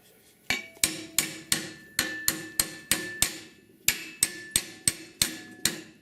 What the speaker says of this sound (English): I'm using a body hammer, not a ball peen hammer